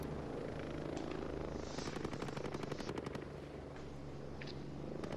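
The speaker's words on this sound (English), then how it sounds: "why is the helicopter keep coming back?" Helicopter in a shooter video game, a loud steady rotor thump under rapid bursts of machine-gun fire, with no talking.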